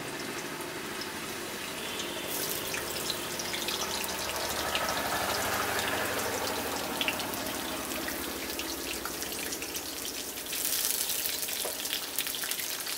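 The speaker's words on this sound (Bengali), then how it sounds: "বেগুনগুলোকে দিয়ে দিলাম ফ্রাই করার জন্য।" Brinjal pieces fry in hot refined oil in a pan, a soft steady sizzle heard close but fairly quiet, swelling slightly midway and again toward the end.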